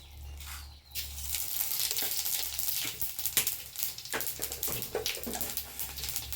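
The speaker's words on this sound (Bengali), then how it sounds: "তেলে দিয়ে দেবো তেজপাতা, গোটা শুকনো লঙ্কা আর পাঁচফোড়ন" Bay leaf, whole dried red chillies and five-spice seeds frying in a little hot oil in a kadai, a close crackling sizzle with stirring scrapes, rising sharply after a brief start and continuing in uneven bursts.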